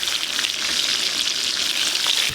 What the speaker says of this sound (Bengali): এই পটলগুলোও ভাজা হয়ে গেছে, তুলে নেব।